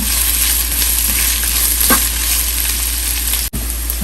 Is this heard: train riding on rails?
no